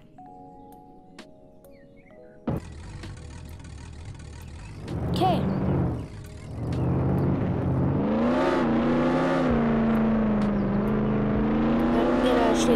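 Car spawned and then driven in Roblox Jailbreak: after a short tone, a buzzing engine starts and rises into a loud revving whine that climbs and holds steady, while a person talks briefly.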